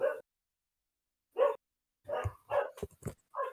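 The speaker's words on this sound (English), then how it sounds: "Pups are barking." Small dogs bark indoors in short sharp bursts, one isolated yap followed by a quick cluster of several barks, moderately close and heard alone without talk.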